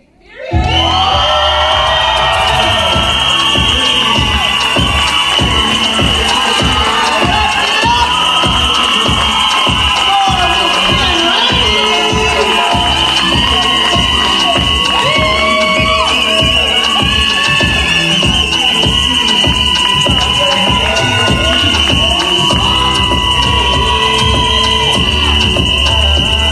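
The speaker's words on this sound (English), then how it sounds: "tonight, Miss Rainey has a cheering section." An audience cheering section at a full-figured pageant roars with loud, sustained cheers, whoops and screams for a delegate, unbroken for almost half a minute.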